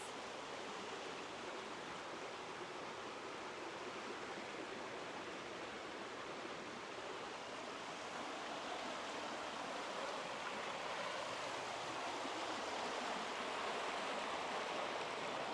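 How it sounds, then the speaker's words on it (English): Small river rapids in Perth, Ontario, a steady broadband rush of churning water, constant and unbroken, moderately close with no voices. "Here's a lovely spot for a mini rapids."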